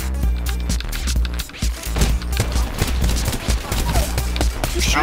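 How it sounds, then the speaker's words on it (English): Rapid bursts of gunfire in the Apex Legends battle royale game, dense overlapping shots and automatic fire running throughout, loud and close with game effects beneath. "Who's shooting at me?"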